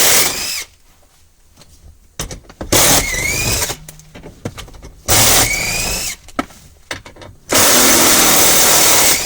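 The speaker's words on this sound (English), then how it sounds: "I'm going to remove the 8mm bolts from the protection." A power tool whirs in loud, close bursts while removing 8mm bolts from a protective panel on a 2011-2015 Ford Explorer. The bursts start and stop with quiet gaps and rising spin-up whines between them.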